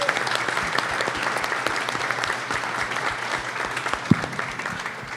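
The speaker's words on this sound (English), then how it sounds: "Let's give a round of applause for our special guest this evening." Steady applause from a live podcast audience, many hands clapping densely and evenly throughout, with no voices standing out.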